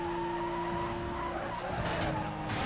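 A car in the PS2 racing game Need for Speed: Most Wanted (2005) oversteers, its tires squealing and skidding over a constant engine drone, loud and continuous for the whole short moment.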